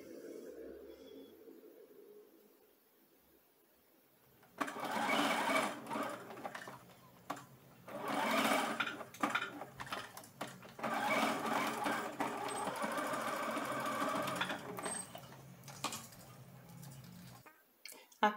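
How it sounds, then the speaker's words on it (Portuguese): A sewing machine stitches a strip of velcro, about 2 cm wide, onto the top edge of a fabric shoulder cloth. A quiet lead-in gives way to loud, steady bursts of running stitching separated by short pauses. "E vou costurar também."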